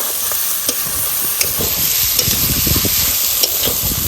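Potatoes are tossed into frying country duck meat at an outdoor picnic, with a steady loud sizzle and repeated scraping stirs of a spoon in the pan, close and without voices.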